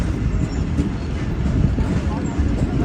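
Awam Express passenger train running at speed, a steady loud low rumble and rattle of the carriage throughout, with faint voices in the background.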